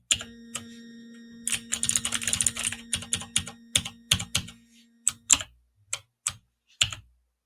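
Keys clatter on a budget gaming keyboard in quick, uneven bursts of close, crisp clicks, then slow to sparser single presses, each with a slight springy twang.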